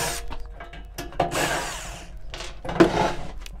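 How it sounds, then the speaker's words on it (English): Screws are backed out of the casing of an AP Welding MMA-400 welder with a power driver, giving short whirring bursts and clicks nearby. "Just got two more screws to take out."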